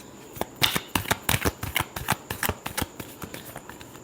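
Tarot cards are shuffled in a series of crisp, rapid riffling bursts, close and clear, with short pauses between them and no talking.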